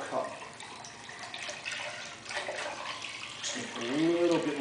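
Distilled ethanol from a homemade still trickles in a thin, steady stream into a cup, close by, while someone talks over it.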